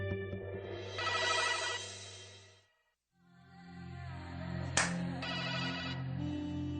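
A phone ringtone plays as a melodic electronic tune, breaks off into a brief silence, then starts again and continues steadily at moderate loudness with no talking over it.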